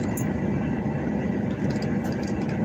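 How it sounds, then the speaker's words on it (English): A fire engine passes on a street, its heavy diesel engine giving a steady, loud, low rumble that holds evenly for a few seconds with no siren standing out and no one talking. "fire engine"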